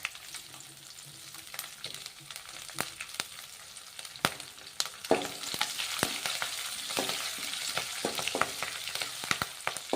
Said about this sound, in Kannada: ಫ್ರೈ ಆಗಲಿ. ಇದಕ್ಕೇನೆ ಇವಾಗ ಮೆಣಸಿಕಾಯಿ ಹಾಕೋಣ